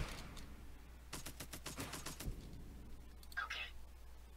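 Gunfire from units in the strategy game REDCON, a rapid burst of evenly spaced shots followed by a brief electronic whoosh, with a voice murmuring faintly underneath.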